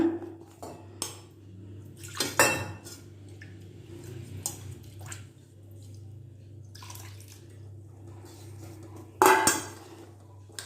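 Sambar stirred in a pot with ground paste and cooked toor dal, brinjal and karamani: a spoon scraping and clanking against the pot with wet squelching, in intermittent bursts and one louder clatter near the end.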